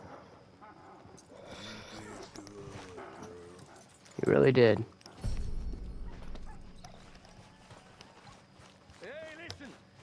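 Horse hooves clip-clop in a western video game, with a steady trotting rhythm under a voice, then a loud bang and rumble in the middle of the clip.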